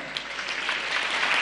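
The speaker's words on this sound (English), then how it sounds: "Clap for her." An audience at a Kenyan Ministry of Education school funding launch claps steadily for a World Bank representative, a dense, even patter of hands that holds at a fairly loud level throughout with no talk over it.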